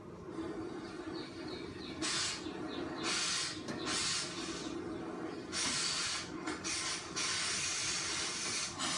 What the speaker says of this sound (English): now I'm going to spray it with water as if it were getting some water in the bottom of the reactor